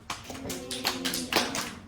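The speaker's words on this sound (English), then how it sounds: "Can we all clap out how many syllables we hear in cranium?" Third-grade children clap out the three syllables of the word cranium, a small group's uneven, slightly scattered claps in quick succession, close and clear.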